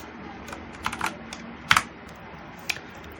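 Computer keyboard keys tapped while deleting cells in an Excel spreadsheet: a few sparse, close clicks with a sharper double press near the middle and one last tap, otherwise quiet.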